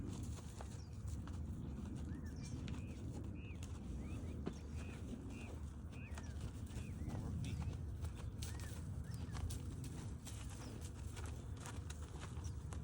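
A two-year-old horse is worked in training, its hooves clip-clopping in a quiet, irregular rhythm under outdoor ambience. Birds coo and chirp in the background.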